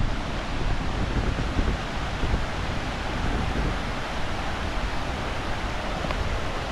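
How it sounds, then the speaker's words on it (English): Waterfall at Bird Creek Falls, a steady, dense rushing roar of falling water heard up close, constant and unbroken with no voices over it. "then you'll start to hear the waterfall"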